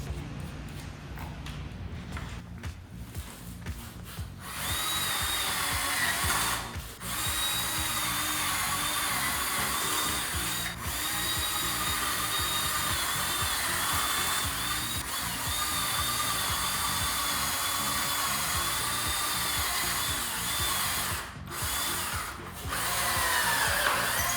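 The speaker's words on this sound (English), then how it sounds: "we're going to go ahead and drill all of those holes" A power drill with a 16 drill bit whirs steadily for long stretches while drilling holes for a Jeep Wrangler JK hard top hoist install, pausing briefly between holes, loud and close, with some scraping handling noises at the start.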